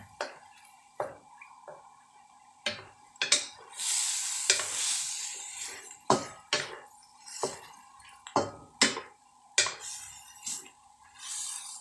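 Minced pork stir-fried in a pan, a Thai dish with salted egg yolk: repeated sharp scraping strokes of a spatula against the pan over a steady sizzle, close and clear, with no talk.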